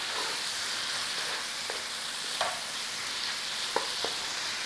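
Chicken seasoned with black pepper and smoked paprika sears in a pan, a steady close hiss of sizzling broken by a few soft clicks of a utensil stirring, with no talking.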